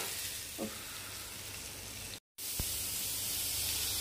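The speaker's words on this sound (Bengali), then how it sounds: "তার উপর জাস্ট এটা ছোঁক মেরে দিচ্ছি" A hot spice tempering is poured over a yogurt and potato dish, producing a steady close hiss of sizzling oil, broken by a brief cut midway.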